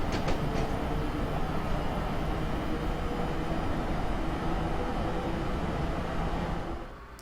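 An ALP-45DP locomotive accelerates on the North Jersey Coast Line in Train Simulator 2016 with a loud, steady rolling rumble and faint rail clatter. A few clicks come early on, and the noise drops away sharply at the end.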